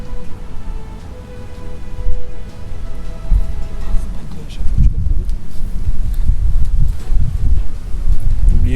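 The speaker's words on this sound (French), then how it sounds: "Oh, le vent." Strong gusts of outdoor wind buffet and rumble in low, uneven bursts that swell in the second half, with people talking faintly beneath.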